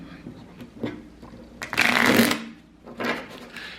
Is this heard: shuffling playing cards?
yes